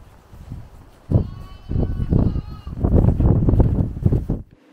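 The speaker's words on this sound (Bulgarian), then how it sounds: "виждаме овцете, които са изкарани на двора към кошарата." Sheep and lambs bleat repeatedly in a farmyard by their pen, several overlapping calls coming in close bursts over faint outdoor wind.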